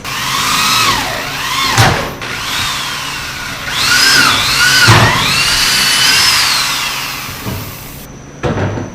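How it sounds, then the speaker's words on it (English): Power drill boring holes into a DIY quad kayak trailer frame, several loud whining bursts that rise and fall in pitch, separated by brief pauses and clunks, close up. "I'm gonna drill that one and drill this one"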